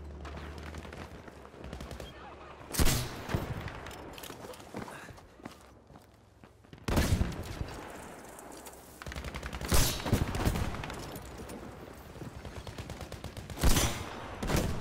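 Battlefield V gunfire in a skirmish over Poulos House: several loud bursts of shots, separated by pauses, with scattered movement noise between them.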